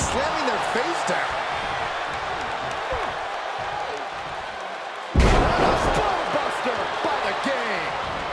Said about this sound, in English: Shot after shot, then slamming their face down.